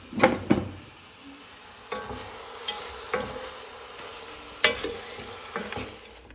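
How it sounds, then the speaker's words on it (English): Apples with brown sugar and cinnamon being stirred in a pan, a spoon scraping and clacking in a few distinct strokes with faint sizzling between them, close and alone. "give that a good stir."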